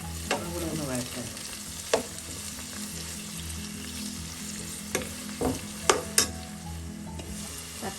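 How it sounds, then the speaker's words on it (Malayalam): Tomatoes sauté in a pan for a Kerala-style chickpea curry, giving a continuous sizzle and frying hiss with occasional sharp clicks and scrapes from stirring, close by and with no talk. "തക്കാളിയൊക്കെ ചെറുതായിട്ടൊന്ന് വഴണ്ടിട്ടുണ്ട്."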